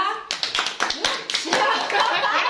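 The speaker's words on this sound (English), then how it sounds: "Come on, let's clap for her!" Scattered hand claps from a small group celebrating the winner of a no-hands apple eating challenge, uneven and close, with children's voices and laughter mixed in.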